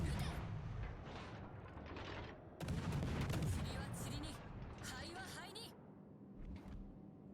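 Naval guns fire shells in the World of Warships Legends video game, a series of heavy booming shots with sharp mechanical clanks, mixed with game sounds and the low rumble of the ship.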